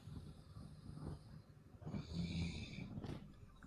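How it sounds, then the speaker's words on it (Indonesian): A person snores in the background during an online call, with rough, rattling breaths repeating at a slow rhythm, faint and somewhat distant. "Ngorok dia."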